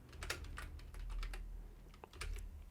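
Steady typing on a computer keyboard while entering a name in a C# console program, a close run of quick key clicks with brief pauses, no voices.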